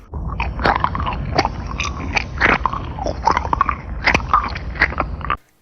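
Wet, squelchy chewing and biting with crunchy, crackling bursts, close and loud, continuing steadily for several seconds with no talking.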